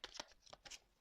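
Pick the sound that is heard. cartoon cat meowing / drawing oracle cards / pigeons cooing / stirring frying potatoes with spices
drawing oracle cards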